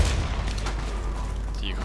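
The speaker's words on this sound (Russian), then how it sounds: "Осторожно, граната!" A grenade explodes in the shooter game Warface, a loud close boom that opens with a heavy low thump and then rumbles and crackles away over a couple of seconds.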